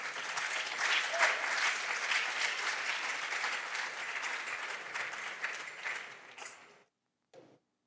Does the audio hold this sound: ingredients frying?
no